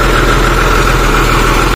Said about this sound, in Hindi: गाड़ी तो निकालते हैं बाहर